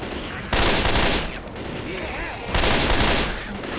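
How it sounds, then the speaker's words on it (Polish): Bursts of rapid gunfire in the video game Left 4 Dead 2 erupt twice, loud and close, with a steady crackling din between the volleys. "Słychać strzały."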